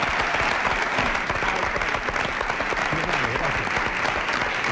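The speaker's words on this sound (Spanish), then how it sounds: "¡Un aplauso para él!" Loud, sustained audience applause at a comedy show, a dense wash of clapping from a crowd that continues throughout.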